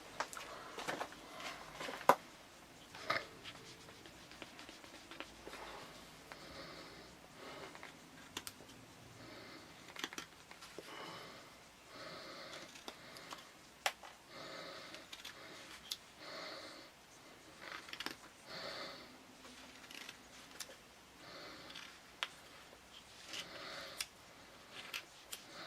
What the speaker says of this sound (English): I'm just going to cut some little notches in here.